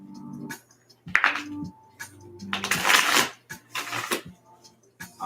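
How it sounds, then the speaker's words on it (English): Tarot cards being shuffled in bursts of papery riffling and flutter, several short rustling runs separated by pauses, close and moderately loud, with a faint low hum underneath. "I'm about to shuffle."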